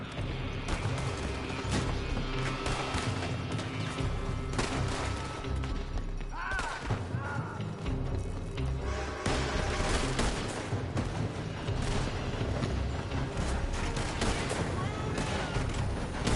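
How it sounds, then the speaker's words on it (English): Red Dead Redemption 2 shootout with dense, continuous gunfire crackling from a building, rapid overlapping shots under a heavy game soundscape, with voices mixed in. "They're shooting from that building!"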